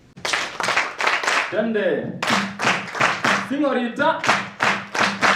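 Hands clap in a steady rhythm at a lively creative arts event, loud and close, with a voice calling out between the claps and a sung or chanted phrase breaking in twice.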